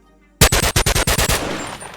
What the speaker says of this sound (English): Okay, so the gunshots do overlap and cut each other out.